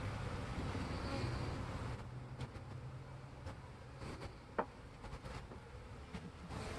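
Honey bees from a new package hum in a soft, continuous buzz during hive installation, with a few faint knocks and handling clicks over the drone.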